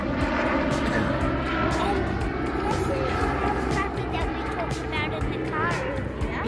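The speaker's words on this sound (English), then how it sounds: "Look how low this helicopter is." A low-flying helicopter sprays overhead, its engine and rotor a continuous loud drone that holds steady throughout. People talk over the noise.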